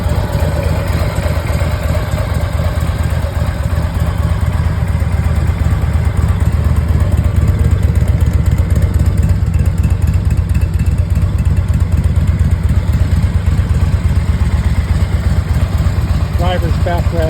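A 2006 Harley-Davidson Ultra Classic Electra Glide touring motorcycle idles steadily nearby, a continuous low engine rumble with no spoken words, lasting throughout at a fairly loud, even level.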